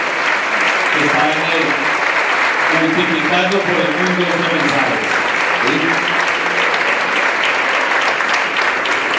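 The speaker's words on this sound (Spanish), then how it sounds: "Démosle un fuerte aplauso a estas personas" A large crowd at a Yo Creo en Colombia gathering gives dense, steady applause lasting about nine seconds, with a voice speaking in Spanish over the roar.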